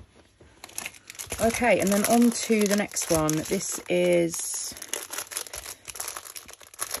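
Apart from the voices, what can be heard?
plastic bag of diamond painting kit being handled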